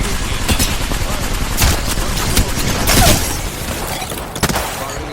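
Rapid bursts of gunfire in the Apex Legends battle royale game, dense fusillades and machine-gun rattles with a few booms, loud and continuous, under brief speech.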